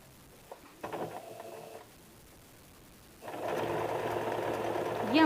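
A sewing machine stitches the dart on the hook and eye panels of a size 40 blouse, running in a short burst, pausing, then starting again in a louder, steady whirring run close by.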